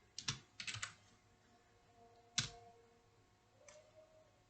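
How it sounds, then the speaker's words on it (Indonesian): Several quick bursts of keystrokes on a computer keyboard as a Cisco OSPF router command is typed, quiet and close, with short gaps of near silence between clusters. "Kita akan ketikkan OSPF 10."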